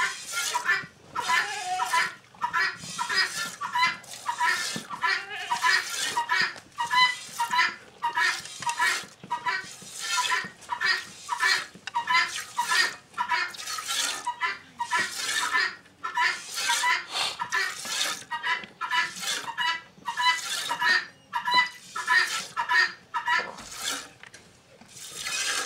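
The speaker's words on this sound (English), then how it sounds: "what you're hearing is my father-in-law's guineas" Guinea fowl calling continuously in harsh, repetitive, rhythmic cackles on a homestead farm, fairly close and persistent throughout, with some background noise.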